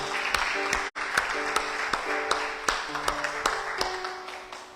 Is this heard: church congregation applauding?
yes